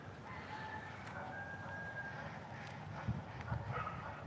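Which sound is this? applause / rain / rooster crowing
rooster crowing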